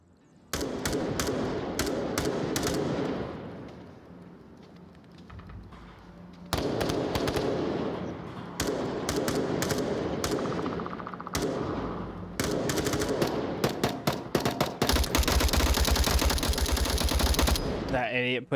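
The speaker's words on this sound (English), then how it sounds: "Mitch Ultra shooting some suppressing rounds" Rapid automatic and suppressing gunfire from the VR shooter Onward in a competitive match, loud bursts separated by short pauses, with a sustained dense volley near the end.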